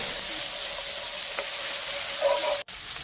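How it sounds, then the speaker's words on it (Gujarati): Two kinds of bell peppers sautéing with onion in a hot pan, a loud, steady sizzle and hiss that runs throughout with one brief break near the end. "આપણે નાખી દઈશું બેલ પેપર 2 પ્રકારના અને પછી આને મસ્ત સોટે કરી લેવાનું"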